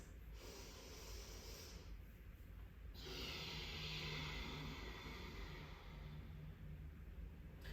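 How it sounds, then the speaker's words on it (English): Ujjayi breathing during a beginner yin yoga session: slow, heavy oceanic breaths drawn through the nose with lips sealed, two long hissing breaths close to the ear over a faint steady hum. "So it sounds like an oceanic breath."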